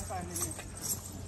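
Horse hooves clop steadily along a covered pilgrimage path toward Vaishno Devi in Jammu, with a rider aboard, fairly close and even-paced under a person talking.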